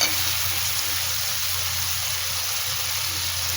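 Potatoes fry in a hot pan with a steady, loud, close sizzle that hisses on without a break.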